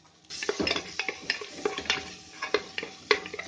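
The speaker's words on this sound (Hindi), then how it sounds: "बस 2 मिनट इसको मैं भूनूंगी हल्का सा, ताकि इसका अरोमा आ जाए बटर में।" Light sizzling of garlic, ginger and onion sautéing in butter in a pan with a spoon stirring and scraping, irregular clinks and scrapes up close, no talking.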